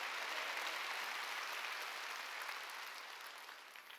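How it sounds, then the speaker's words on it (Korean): A church congregation at a Wednesday worship service claps together, a soft, continuous spread of many hands that sounds somewhat distant and gradually fades toward the end. "깨달은 사람만 박수치라고요."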